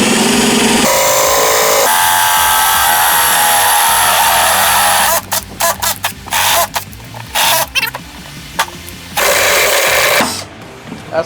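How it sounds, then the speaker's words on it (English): A drill bores about a 1-inch hole through a wooden board for a homemade squirrel trap, a loud steady whine for five seconds that then breaks into short bursts as the bit catches and stops. "Okay, about 3/4 of the way back, we're going to drill about a 1-inch hole."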